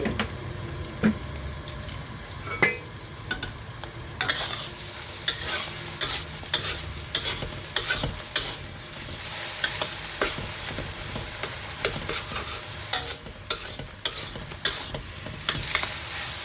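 Shrimp and egg stir-fried in a pan with oil for Singapore-style noodles, a steady close scrape and clatter of stirring over a continuous sizzle, with sharp utensil knocks every few seconds.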